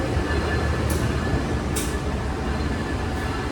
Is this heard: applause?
no